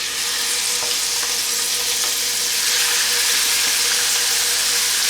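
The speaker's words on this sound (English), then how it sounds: "start cooking this meat in 2 to 3 tablespoons of bacon fat" Meat searing in bacon fat in an electric skillet set to 270 degrees, a loud, even, close sizzle that holds steady throughout without talk.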